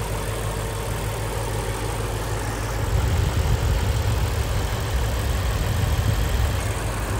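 A 2019 Lexus GS F with its 5-liter V8 idles steadily and close by, a low, even rumble that grows slightly fuller partway through and holds there, with no talking over it.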